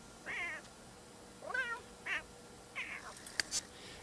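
Pet cats in the life-simulation game The Sims 3 give four or five short, clear meows spread across a few seconds, fairly quiet, with a couple of small clicks near the end and no talking.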